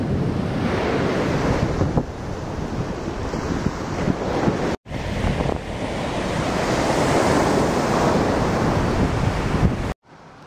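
Ocean surf rolls continuously onto Kalalau Beach on Kauai, loud and close with heavy wind buffeting the microphone throughout, broken by a brief cut near the middle.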